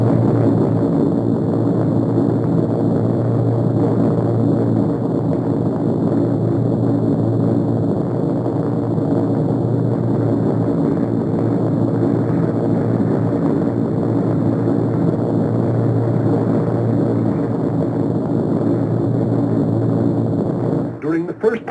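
Steady, loud drone of WWII bomber aircraft engines in flight at about 165 miles per hour, a continuous multi-harmonic propeller hum filling the whole stretch with no pauses.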